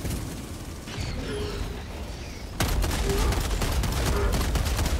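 A sentry turret in Helldivers 2 opens fire, breaking into a loud, continuous stream of rapid gunfire that follows a quieter stretch of mechanical clatter and creaks.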